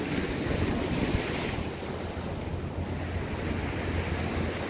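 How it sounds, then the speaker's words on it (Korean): Heavy sea surf rolling and breaking at a fishing spot in Songjeong, a steady loud wash of waves with wind buffeting the microphone throughout, no voices. "파도가 지금 장난이 아니죠."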